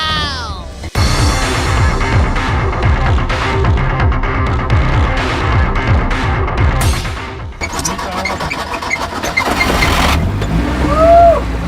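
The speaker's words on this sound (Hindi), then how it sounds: "आपके सामने चल ही रही है यार।" A heavily modified car running on tractor tyres, with a loud, throbbing engine that starts up, idles roughly, then revs and surges, close by, with some voices and clatter around it.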